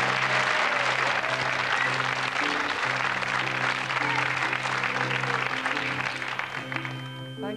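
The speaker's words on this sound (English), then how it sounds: "Thank you for your applause." Warm applause from a television studio audience greets a performer's entrance, a thick, steady roar of clapping that fades slightly toward the end.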